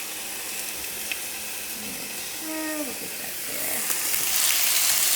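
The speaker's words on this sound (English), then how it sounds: "my nice olive oil, my chicken, and then I put chicken. You can see it sizzling." Chicken frying in olive oil in a pan, a steady hissing sizzle that swells louder toward the end, with a brief spoken remark and a few clinks in the middle.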